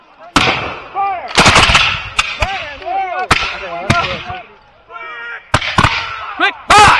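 Musket volleys crack out at a Revolutionary War reenactment, loud sharp reports fired in ragged clusters and single shots over several seconds, with echoing tails and shouted commands in between.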